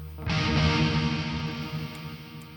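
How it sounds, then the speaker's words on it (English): A sustained distorted electric guitar chord rings out with a swirling delay tail from a Wavemind ToneSuite plugin that slowly fades, repeating faintly. "Really cool delay stuff over here."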